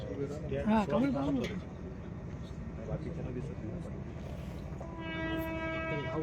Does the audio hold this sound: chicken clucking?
no